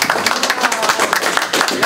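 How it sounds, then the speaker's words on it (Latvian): An audience claps together at a professional forum presenting a Latvian real-estate transactions textbook, steady close crowd clapping filling the short moment with no voices. "Aplausi!"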